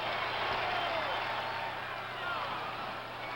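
Baseball stadium crowd at a World Series game, Cincinnati at Boston in 1975, a dense continuous roar of cheering and applause sustained throughout, loud and distant-sounding with no clear single voice.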